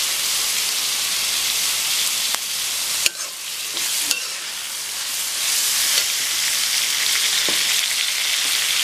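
Tomatoes with salt sauté in a pan for South Indian mutton curry, a loud, steady crackling sizzle with a few sharp clacks of a spoon against the pan, no one talking.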